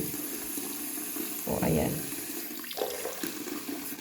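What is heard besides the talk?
water being poured to fill a dog's drinking bowl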